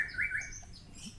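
A white-rumped shama (murai batu) calling, short faint chirps and whistles at a moderate distance, with no talk.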